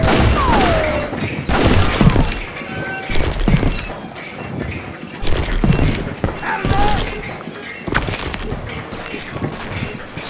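Many gunmen firing in the Western shooter game Call of Juarez Gunslinger, loud repeated gunshots and sharp cracks in irregular bursts over busy game noise, with a voice speaking intermittently.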